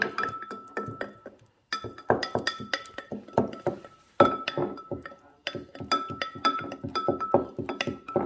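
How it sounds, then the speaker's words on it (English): A wooden spoon stirring rehydrated sourdough starter in a glass container, a quick run of bright clinks and knocks in bursts separated by short pauses, close and clear, with no talking. "I'm going to take your wooden spoon and stir it around."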